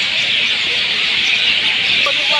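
Birds calling near the Ganges ghat at Belur Math riverside temple, a dense continuous chatter of chirps close by with no talk.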